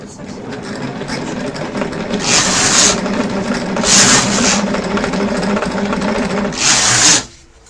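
A domestic knitting machine works PNK im. Kirova yarn, its carriage rasping back and forth with three sharper swishing strokes over a steady mechanical clatter while people talk nearby.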